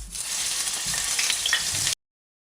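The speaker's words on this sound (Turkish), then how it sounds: "Yağım iyice kızdıktan sonra patlıcanlarımı içine koyuyorum ve kızartıyorum." Steady, crackling sizzle of eggplant frying in hot oil, close and fairly loud, continuous for about two seconds before cutting off.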